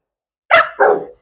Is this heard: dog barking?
yes